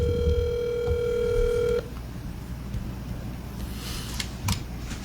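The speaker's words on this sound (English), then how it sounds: "you got to call you right on the phone, put it on the speaker" A speakerphone telephone sounds a steady dial tone with call-progress beeps, loud and clean for nearly two seconds, then cuts off to quiet room hum with a few faint clicks.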